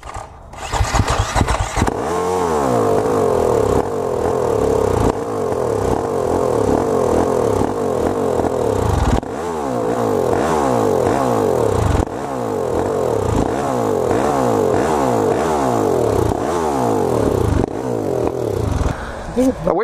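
A motorcycle engine revs hard and repeatedly off road, loud and close, with pulsing bursts of throttle and rough mechanical clatter throughout.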